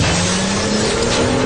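A movie car screeches to a stop with a loud, sustained tire squeal and roaring engine noise that fill the whole moment without pause.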